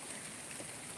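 Heavy night rain in Salerno hisses as a steady, dense wash of noise, with no gaps and no voices.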